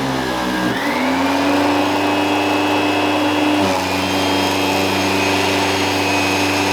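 Central vacuum system motor starting up and running slowly, a steady droning whine that rises in pitch as it spins up and then holds a constant, fairly loud hum with no talking.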